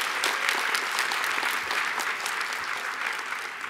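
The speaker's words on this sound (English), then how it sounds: "Please also join me in giving a round of applause to the conference center and catering and beverage staff here at the Hilton" A conference audience at a Hilton event applauds the venue's catering and beverage staff with steady, dense clapping that holds evenly for a few seconds.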